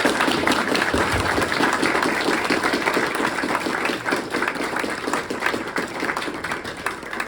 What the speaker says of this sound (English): So if you can join me in giving our wonderful panelists a round of applause.